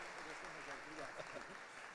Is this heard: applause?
yes